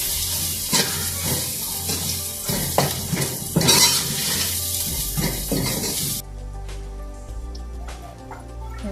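Coriander, turmeric and red chili powder frying in a pan for karela chana dal: a loud, dense sizzle with repeated scraping stirs, which drops to a quieter, thinner hiss for the last few seconds.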